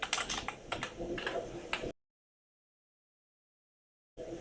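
A printf command being typed on a computer keyboard, a quick run of close key clicks and taps that stops abruptly, with a brief burst of typing resuming at the end.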